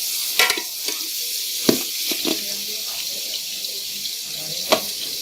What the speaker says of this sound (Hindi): गोश्त हमने सारा इस पतीले में डाल लिया है। अब हम इसको अच्छे तरीके से इसमें फ्राई करेंगे।